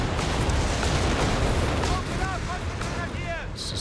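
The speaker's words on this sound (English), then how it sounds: "It's just non-stop walking Stukas right now." Rocket barrages from walking Stukas in Company of Heroes 3 rumble in dense, continuous low booms and crackling blasts, heavy and close at first, then easing slightly as whistling streaks and a voice cut in underneath.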